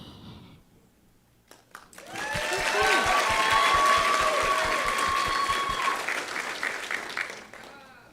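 Audience applause at a youth Cherokee ambassadors competition rises after a quiet start into steady, full clapping that carries on for several seconds before thinning out, with a voice speaking over it.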